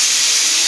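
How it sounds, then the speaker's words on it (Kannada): Steady, loud hiss of steam escaping from a pressure cooker whistle while rice cooks, a continuous broadband rush with no pauses and no voices. "ಅನ್ನ ವಿಷಲ್ ಆಗ್ತಿದೆ"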